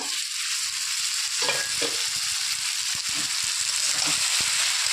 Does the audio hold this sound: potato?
yes